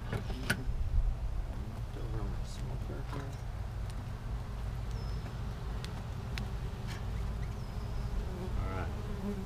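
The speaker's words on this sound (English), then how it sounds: "Make sure I don't have any bees down in there." Honey bees buzz around an open Flow Hive during a comb repair check, a steady close drone with a low rumble beneath, scattered light clicks and knocks from handling the hive, and a person talking briefly.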